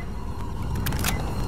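A gun jamming in the video game STALKER Anomaly gives a few short, dry mechanical clicks spread over a second or so, set against a steady low in-game background rumble.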